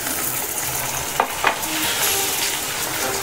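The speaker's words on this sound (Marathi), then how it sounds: "आता आपण टोमॅटो टाकूया।" Tomatoes dropped into golden fried onions with curry leaves for a Marathi cabbage bhaji, a loud close sizzle with a couple of sharp stirring knocks near the middle.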